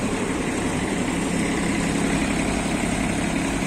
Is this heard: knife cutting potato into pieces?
no